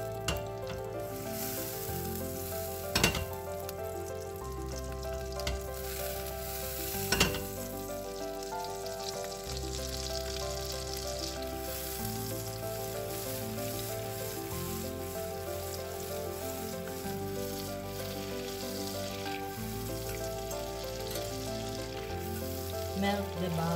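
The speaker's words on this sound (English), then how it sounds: "We wait until melt the butter." Butter melting in a pan for besciamella, a soft, continuous sizzle with a couple of sharp clinks, heard alone and fairly faint over a low background hum.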